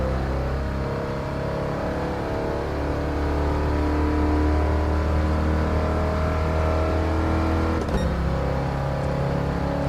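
A 1978 Trans Am muscle car engine in Gran Turismo Sport drones steadily at high revs, a loud continuous roar with harmonic whine that holds through the clip and shifts briefly near the end.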